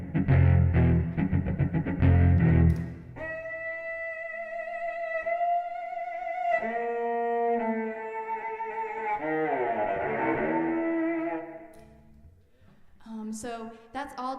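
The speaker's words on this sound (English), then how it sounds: "you can cause a lot of distortion, but distortion on purpose if you play around with that" A cello is bowed with shifting pressure to make deliberate gritty distortion, unamplified. Sustained raspy bowed tones bend and waver after an opening burst of rough scraping, heard up close with no talking.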